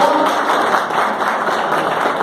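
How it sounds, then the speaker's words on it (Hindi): Applause from an audience at an RCM business meeting in Dausa, a steady dense clapping that holds loud and even for the whole stretch with no voices over it. "इनके सम्मान में जोरदार ताली"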